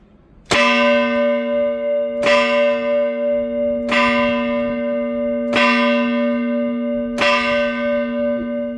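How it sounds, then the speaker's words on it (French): Carillon bells at a student parish church in Toulouse strike five loud, evenly spaced notes, each tone ringing on and overlapping the next in a clear, resonant sequence with no voices. "c'est vraiment une joie d'entendre le carillon sonner"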